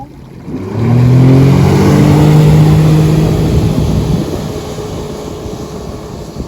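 A 2021 Sea-Doo GTX 230 jet ski engine surges from idle into a loud, rising roar, holds a strong high-revving drone for a few seconds, then eases back slightly, close by with no talking.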